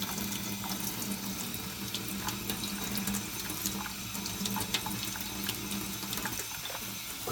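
Tap water pours steadily into a sink, a continuous close splashing rush with no pauses or voices.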